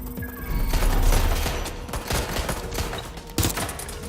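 Rapid bursts of gunfire in the video game Watch Dogs: Legion, dense overlapping shots and booms filling the whole stretch, loud and close with no talk.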